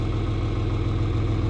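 A steady low diesel idle from an 85-horsepower tractor engine, a continuous rumble with even throb, close and unbroken throughout with no talk over it.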